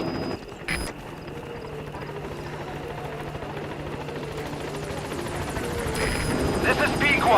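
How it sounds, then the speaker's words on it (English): Support helicopter in the video game Metal Gear Solid V: The Phantom Pain arriving at a landing zone, a steady rotor drone holding throughout and swelling louder toward the end as it draws near, with a voice speaking over it. "Support helicopter has arrived."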